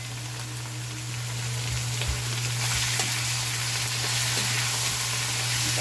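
Ingredients for pancit canton guisado sizzle in a hot pan, a steady close frying hiss with faint crackles and a low hum underneath, no voices.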